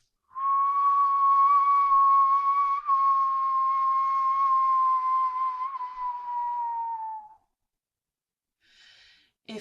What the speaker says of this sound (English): We're just whistling with our lips.